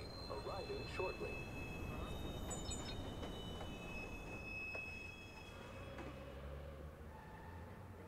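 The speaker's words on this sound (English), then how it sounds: "Eastbound train arriving shortly." A Watch Dogs subway train pulling into a station, a faint steady rumble of wheels with high squealing tones and scattered clicks, fading slightly as it slows.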